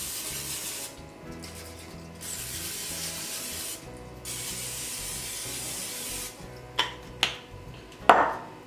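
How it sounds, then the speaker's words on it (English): Cooking spray hisses from an aerosol can onto a hot waffle maker in a few short bursts, close and fairly loud, over quiet kitchen background noise. "I'm gonna take some of this cooking spray and I'm gonna just spray it down real good"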